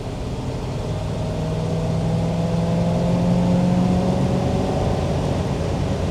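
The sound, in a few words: 1956 Ford Thunderbird engine running while driving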